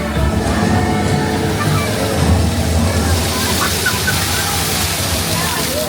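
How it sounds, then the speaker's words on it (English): Rushing, splashing water from an interactive water feature at EPCOT's Journey of Water walkway, a steady loud wash with occasional sloshes and faint background crowd noise. "this next is an interactive water feature for the ocean"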